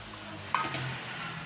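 Bananas dipped in a flour batter with a little sugar frying in oil, a soft continuous sizzle with a couple of faint stirring clinks, quiet and brief.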